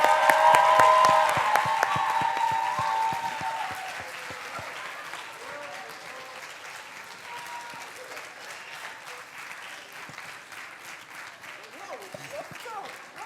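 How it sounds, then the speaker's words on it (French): An audience at a Sciences Po Saint-Germain eloquence contest final applauds the semi-finalists as they come on stage, loud dense clapping that slowly thins and softens, with voices heard over the start. "on les applaudit bien fort"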